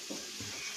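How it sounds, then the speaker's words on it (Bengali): Potatoes and eggplant fry in a pan with a faint, continuous sizzle and a couple of soft stirring scrapes. "হ্যাঁ, আলু ভাজছি"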